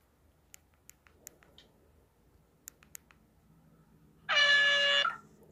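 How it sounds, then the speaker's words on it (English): An air horn sound effect blares once, loud and sustained for under a second, following a few faint clicks against a quiet background. "Okay, air horn."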